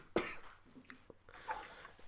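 A single sharp cough near the start, quiet and close, followed by faint breathing and small throat sounds.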